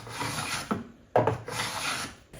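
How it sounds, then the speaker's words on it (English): A wooden chopstick blank has its sides cut on a one-degree tapering jig, giving a close, raspy scraping in two or three rough strokes with short pauses between. "I am now cutting the sides 3 and 4."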